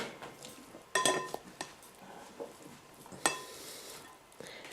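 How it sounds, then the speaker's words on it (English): A spoon or paddle scrapes and stirs cooked rice in a rice cooker pot, with faint soft rustling broken by a few sharper clinks against the pot, quiet and close with no talking. "I need to basically mix it up and just keep mixing"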